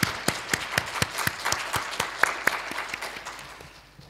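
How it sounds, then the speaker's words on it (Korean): A church congregation at a Sunday worship service claps together to welcome first-time visitors. The applause is steady and moderately loud, with crisp individual claps standing out, and it slowly tapers off toward the end. "우리 다 같이 박수로 환영하겠습니다"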